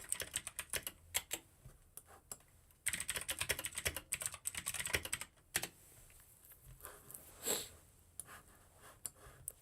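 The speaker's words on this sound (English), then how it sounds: "And let me use my super loud keyboard" Fast, clattering keystrokes on a loud computer keyboard come in bursts with short pauses between them, close and crisp in a quiet room, with no one talking.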